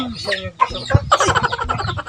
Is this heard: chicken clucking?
yes